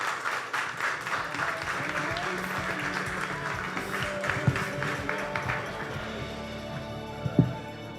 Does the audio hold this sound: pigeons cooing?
no